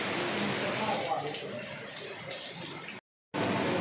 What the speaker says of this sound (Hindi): अभी बहुत ज़बरदस्त जो है ना बारिश स्टार्ट हो गई है